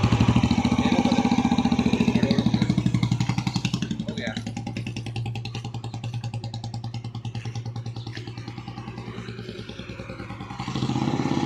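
A Royal Enfield Bullet motorcycle engine thumps steadily at close range through the whole stretch, its pulsing beat rising again near the end as the rider releases the clutch, while people talk over it.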